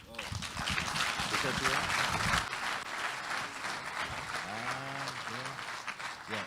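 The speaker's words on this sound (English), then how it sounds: "A round of applause." Lecture audience giving a round of applause, a continuous wash of clapping with voices talking over it, fading slightly partway through.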